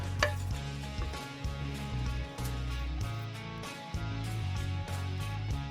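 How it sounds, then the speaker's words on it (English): Bamboo shoot (tama) is stirred and cooked in a pan, with soft scraping and clinking of a utensil against the pan over a low, steady background hum, fairly quiet and without talk. "So I'm going to mix it well, and I'm going to cook it for 2 to 3 minutes"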